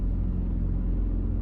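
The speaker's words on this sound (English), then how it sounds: "That's what you hear in the background. It's got broken glass in the fan motor." Car air-conditioning fan motor with broken glass lodged inside, a steady loud low rumble and whir running continuously without a break.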